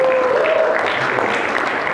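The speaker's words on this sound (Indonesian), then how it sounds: "Tepuk tangannya dulu." Brief steady applause from an audience at a student board election debate, with a sustained tone briefly sounding over the clapping at first.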